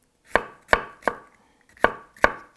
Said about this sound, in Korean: 그래서 파프리카 한 면을 반으로 잘라서 사과 정도 두께로.